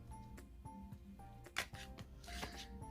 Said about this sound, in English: So I'm going to shuffle my cards again.